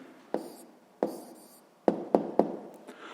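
A pen or chalk writes down a math answer with sharp taps and short scratchy strokes, several separate bursts in an irregular rhythm, close and clear in a quiet room.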